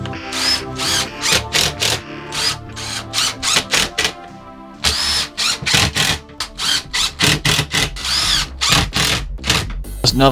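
A power drill drives screws into a plywood storage-container holder, giving loud, close, repeated short whirring bursts with brief pauses between them and a louder run midway.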